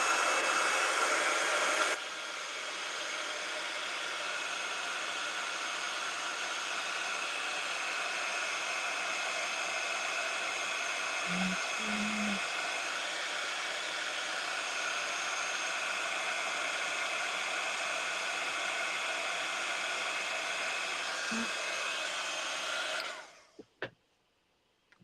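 A heat tool for embossing runs continuously, a steady breathy blowing hiss like a hair dryer that holds for about twenty seconds before cutting off, with a couple of faint clicks and handling noises mixed in.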